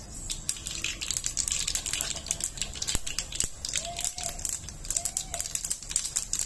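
Rapid irregular crackling and popping of mustard seeds spitting in hot oil, busy and close, with faint background sounds.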